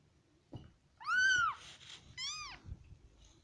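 A cat meows twice, each call a clear, drawn-out rising and falling cry about half a second long, close and distinct against a quiet room with faint soft knocks.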